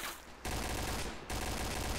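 Sustained automatic gunfire in the online shooter Point Blank, dense rapid bursts filling the clip with one brief pause, loud and close.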